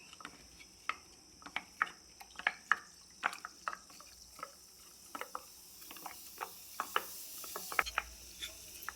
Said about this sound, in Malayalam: നമുക്കിനി വെള്ളമയം ഒട്ടും ഇല്ലാത്ത ഒരു തവി വെച്ചിട്ടൊന്ന് മിക്സ് ചെയ്ത് കൊടുക്കാം